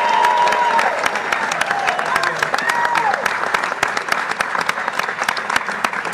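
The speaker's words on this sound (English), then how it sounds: "Let's give a round of applause for Mark Friedman." A Sacramento crowd gathered over the Kings relocation decision breaks into loud, sustained applause, sharp individual claps cutting through the roar, with a few whistles and cheers mixed in.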